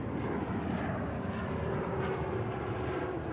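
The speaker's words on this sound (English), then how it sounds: "It's going to be a Dreamliner 787-8 coming in from Madrid in España." An American Airlines Boeing 787-8 Dreamliner arriving from Madrid at Dallas/Fort Worth Airport, its engines a steady, broad roar that holds at even loudness throughout, with no voices.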